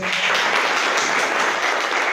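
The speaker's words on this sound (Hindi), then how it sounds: "एक बार जोरदार ताली" Loud, dense applause from an audience at a community leadership development course event in Madhya Pradesh, a continuous bright clatter of many hands that holds steady from start to end.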